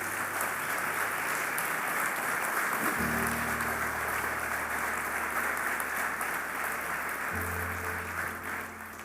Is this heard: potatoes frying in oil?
no